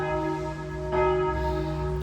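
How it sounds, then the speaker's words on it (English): Town church bells ring with a sustained, resonant tone, heard from inside a hotel room, the ringing steady and fairly loud with a fresh strike partway through. "by church bells"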